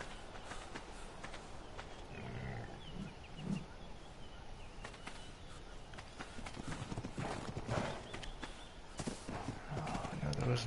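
Horse trotting in Ark Survival Evolved, with steady clip-clop hoofbeats running under a game soundtrack and ambient noise for the whole stretch.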